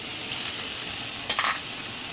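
Fish laid into hot oil in a pan with sautéed chili, giving a steady close sizzle with a brief sharper splatter burst midway.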